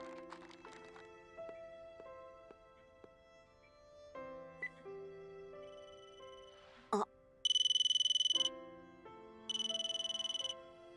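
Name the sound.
mobile phone ringtone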